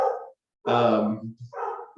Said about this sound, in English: my dog decides to bark right now